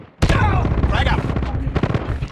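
Grenade blast and rapid gunfire in Call of Duty Mobile multiplayer: a sudden loud boom followed by dense, continuous shooting and crackle for about two seconds.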